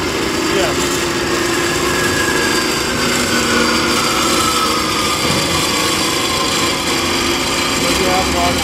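A 2008 Cosen SH-460M band saw fitted with a 1-inch blade cuts steadily, giving a continuous dense grinding rasp with a faint high whine. People talk nearby over the cutting noise.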